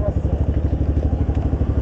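A 2019 250cc motorcycle idles close by in São Paulo, its engine putting out a steady, rhythmic low putter that runs throughout without a break.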